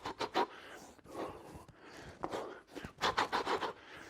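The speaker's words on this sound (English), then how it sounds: "And you can hear my breathing." Heavy, rapid breathing during a no-equipment home Tabata circuit of punches and burpees, sharp panting breaths in irregular bursts, close and fairly loud with brushing and scraping movement noise between them.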